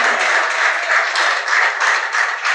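Church congregation clapping together, a dense, steady patter of many hands that holds evenly for a couple of seconds with no voices over it.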